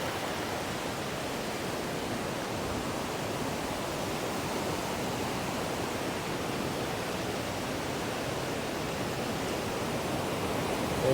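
River water rushes steadily at Hogenakkal falls, a loud, unbroken roar of high flow that fills the whole clip without any voices.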